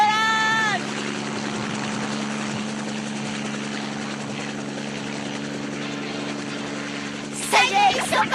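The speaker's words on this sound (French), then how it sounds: "Attention au décollage." A flying vessel in an animated series lifts off with a steady droning engine hum and rotor-like whir, a continuous mid-level roar that swells with a brief burst of higher whooshing near the end.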